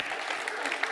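Studio audience applause on the set of the French quiz show Questions pour un champion, a brief burst of dense clapping, fairly close and continuous.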